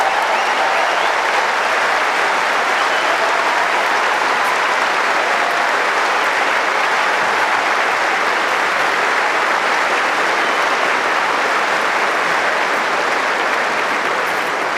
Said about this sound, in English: let's listen in to the reception they get from the crowd